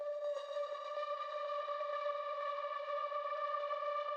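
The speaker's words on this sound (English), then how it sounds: "Then the only thing coming in the beginning is this Atmo pad." A sustained, airy synth pad in a melodic techno track holds a steady chord with a soft reverberant shimmer, smooth and unchanging throughout.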